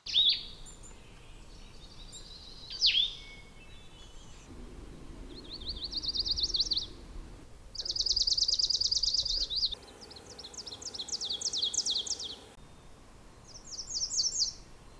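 Several birds sing in the vast North Maine Woods forest, the largest unbroken forest in the east. They give separate bright chirping and trilling phrases one after another over fifteen seconds, moderately faint, with quiet forest ambience between them.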